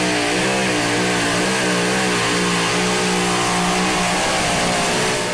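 A two-wheel-drive pulling truck roars at full throttle during a pull at a truck pulling event in Henry, Illinois, a loud, continuous, strained engine howl with steady harmonics that waver and drop slightly near the end.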